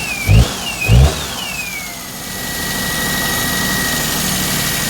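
Citroen 2CV engine during its final MOT test, with two short throttle blips followed by a steady, fairly loud rev carrying a faint high whine that glides and then levels off.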